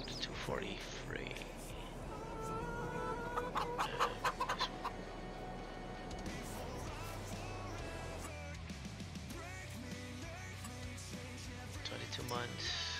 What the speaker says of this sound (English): How are my chickens doing?